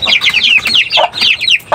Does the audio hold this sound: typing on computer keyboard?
no